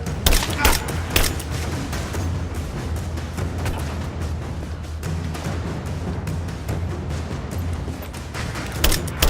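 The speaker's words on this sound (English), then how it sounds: "Open fire! Keep her down! Covering fire!" Rise of the Tomb Raider combat: sustained bursts of automatic gunfire and scattered shots crackle continuously, with heavier booms at the start and end, while enemy voices shout over the fighting.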